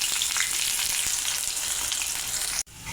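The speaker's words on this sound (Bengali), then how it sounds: "পেঁয়াজ কুচি আর কাঁচামরিচ দিয়ে দেব।" Chopped onion and green chili fry hard in hot soybean oil that was first tempered with nigella seeds and dried chili. The close, dense sizzle holds steady and loud, then cuts off abruptly near the end before a quieter hiss resumes.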